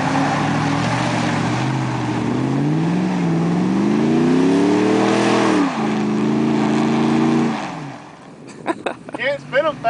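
A Chevy Tahoe Z71 stuck in mud revs hard as its wheels spin, the engine pitch climbing steadily, dropping briefly, then climbing again before cutting off, followed by voices talking nearby.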